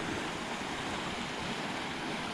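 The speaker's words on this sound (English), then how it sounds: "Suddenly got a few waves that have washed up." Waves wash up on Portals Nous beach in a steady, soft rush of surf with a faint wind hiss, heard from nearby without any talking.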